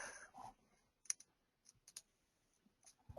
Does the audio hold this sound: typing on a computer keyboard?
yes